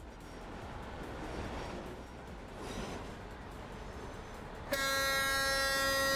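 A train runs in the Transport Fever 2 video game, with a quiet rumbling roll that gives way suddenly to a steady, bright, horn-like tone toward the end, with no one speaking.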